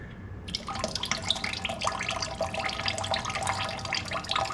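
Water pours steadily out of a seized Honda GX200 engine into a bucket, a continuous close splashing trickle that starts abruptly and runs on without talk.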